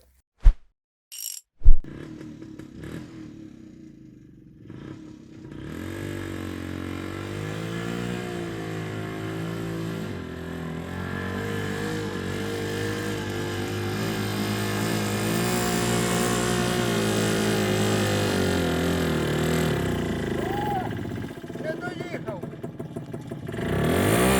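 A Muravei motor scooter pulling a loaded trailer drives into a garden plot, its small engine laboring and revving steadily after a few sharp clunks at the start, with someone talking over it.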